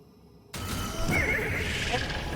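A horse in the Destiny 2 video game lets out a loud, close whinny that bursts in after a moment of near-silence and carries on for about two seconds, with faint game sounds underneath.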